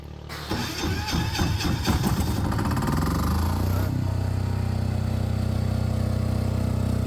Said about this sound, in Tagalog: So ito po, i-test natin yung ating generator. I-on natin.